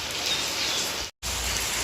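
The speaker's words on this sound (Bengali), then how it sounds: "একভাবে বৃষ্টি হয়েই যাচ্ছে" Steady rain pours outdoors in a continuous broadband hiss, interrupted by a brief dropout before resuming just as heavily.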